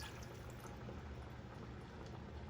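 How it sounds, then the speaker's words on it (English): Broth concentrate poured into a cast iron pot as ramen cooks, giving a steady, continuous liquid wash and faint simmering sizzle throughout, fairly quiet and unbroken with no voices. "let's add our broth concentrate"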